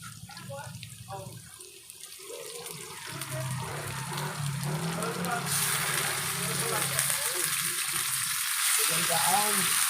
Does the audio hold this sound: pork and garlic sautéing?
yes